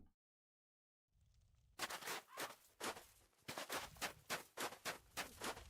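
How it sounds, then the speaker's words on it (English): Footsteps crunch through snow in the video game Dark Souls, a rapid run of about ten crisp, loud steps after a brief silence, with no voices over them. "The snow sound is so crispy."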